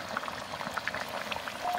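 Red country chicken curry bubbling in a cooking pot, a soft busy stream of small pops and gurgles at low volume, close and continuous.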